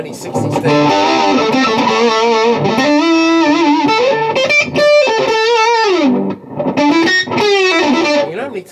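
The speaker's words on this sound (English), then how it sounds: "they want like that scratchy distortion" Scratchy, fuzzy distorted electric guitar through an effects pedal with a vintage 60s–70s character, played as loud sustained bending notes and chords that nearly fill the clip with only brief gaps.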